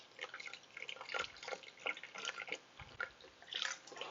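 Lobster juice and seafood broth being poured into a Thermomix for risotto, a soft continuous trickling and dripping liquid sound, faint and close, with no talk.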